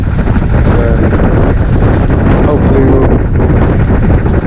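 Wind roaring steadily across the microphone aboard a sailboat out with the tide, loud and constant throughout, with a voice faintly under the buffeting.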